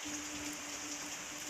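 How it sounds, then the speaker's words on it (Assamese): Heavy rain falling outdoors makes a brief, steady, even hiss of dense drops, moderately loud and unbroken. "ইমান বেয়া, ইমান বৰষুণ,"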